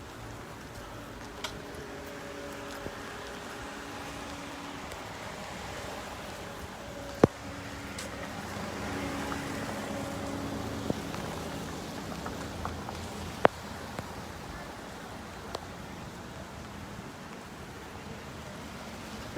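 Steady rain falls outdoors at a street protest, a close, even hiss that runs throughout, broken by a few faint, sharp taps.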